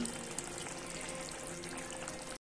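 Ghee dropped into a pan of frying chhanar dalna, a Bengali curry of paneer koftas with whole garam masala, giving a steady close sizzle and crackle that stops abruptly.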